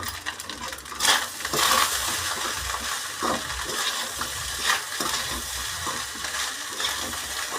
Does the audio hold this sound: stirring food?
yes